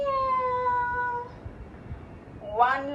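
A child imitates a cat during a kids' yoga class, drawing out a long meow, then a short pause before another meow begins.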